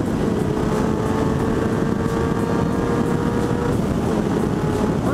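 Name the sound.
old motorcycle engine revving as throttle is opened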